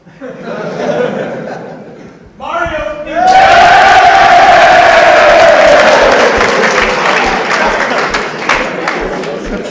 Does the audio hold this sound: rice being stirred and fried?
no